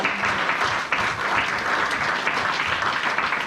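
A church congregation claps loudly together, a dense continuous wash of hand-claps that fills the room without pause.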